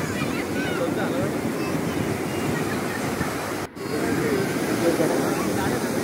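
Sea waves at Vizag beach roll and crash in a steady, loud wash with wind buffeting the microphone, one brief dropout partway through.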